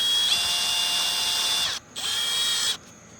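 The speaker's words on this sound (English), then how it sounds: "we'll chuck this up in the drill," Power drill spinning a bit freely with a high steady whine, running for about a second and a half, stopping briefly, then spinning again before cutting off.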